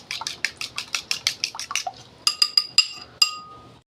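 Egg with a pinch of salt is beaten in a bowl for chicken shami kebabs, a quick run of rhythmic wet clinks from the whisk against the bowl, followed by a few sharper separate taps.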